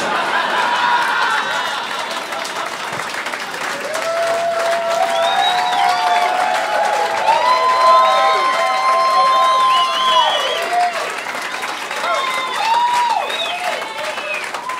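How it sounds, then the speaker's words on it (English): An audience applauds with scattered cheering, whoops and laughter, a lively mix of many voices and claps that swells in the middle and stays busy throughout. "Applause is the proper reaction."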